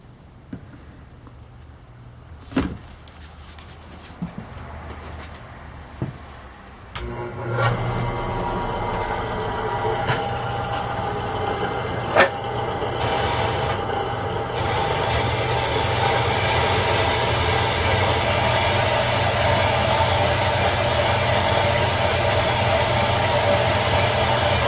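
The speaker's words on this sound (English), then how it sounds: "So let's take this to the bandsaw and cut it off." A bandsaw cuts through a cast iron shaft from a 5500 watt generator. There are a few sharp knocks at the start, then a steady, fairly loud mechanical whir with a cutting patter that builds and holds at an even level.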